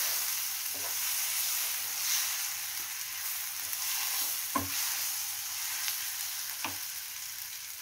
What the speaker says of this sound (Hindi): गैस का फ्लेम कम करके हम इसमें फ्राई होने देते हैं।